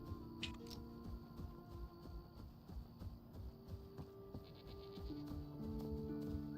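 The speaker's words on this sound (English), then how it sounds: "Shut up, sheep." Sheep bleat in the video game Enshrouded, several soft repeated calls over quiet game ambience with steady low rhythmic tones and occasional tinkling sounds, fairly faint and close by.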